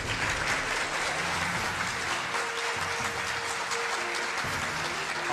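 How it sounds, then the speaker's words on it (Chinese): A large audience at a televised cultural award ceremony applauds warmly, with loud, sustained, even clapping and faint background music underneath. "所以接下来呢，就让我们用热烈的掌声有请李以健先生。"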